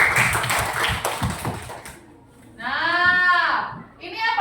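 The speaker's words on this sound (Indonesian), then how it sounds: "Kasih tepuk tangan dulu untuk dia." A classroom of students claps for a classmate in a short, dense burst of applause lasting about two seconds. The clapping fades, then a loud, high, wavering bleat-like vocal sound follows, with a brief second one at the end.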